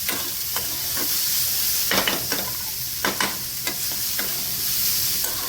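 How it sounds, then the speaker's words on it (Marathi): Cabbage stir-fries in hot oil for vegetable Maggi, a continuous close sizzle broken by several sharp scraping stirs of the spatula against the pan, with no voices. "कोबी पण चांगलं परतून घेऊया तेलावरती"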